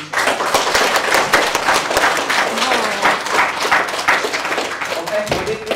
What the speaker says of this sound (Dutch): Even een groot applaus.